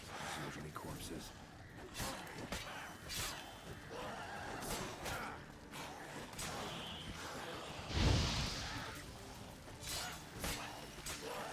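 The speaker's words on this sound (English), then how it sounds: "Don't touch my horsey." A horse neighs in the Witcher 3 video game, amid game sound effects and a brief loud burst, while a person talks over it.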